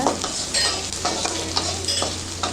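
Carrots, beans and onion sauté with salt in a hot pan over high flame, a steady close sizzle broken by the scrape of a spoon stirring every half second or so.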